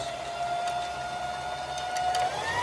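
A Singer Classic sewing machine runs steadily while stitching a pant hem, giving a continuous close mechanical hum with a sustained whine and faint periodic ticks, with no voices.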